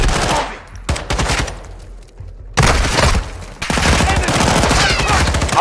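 Rapid automatic gunfire in the Modern Warfare 2 shooter game, loud bursts of shots in quick succession with brief pauses between volleys, sharp and close.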